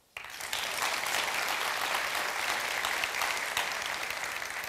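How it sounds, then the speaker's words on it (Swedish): A seated audience at an innovation day lecture breaks into dense, sustained hand clapping that starts abruptly and holds steady for several seconds. "Så kan alla klappa händerna?"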